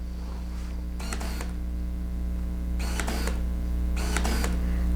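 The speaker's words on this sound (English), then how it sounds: "with autofocus, you just have to press the shutter button and the camera will focus" A Nikon F100 film camera autofocuses and fires its shutter, three short, sharp mechanical bursts of whir and clack spaced about a second apart against a quiet background hum.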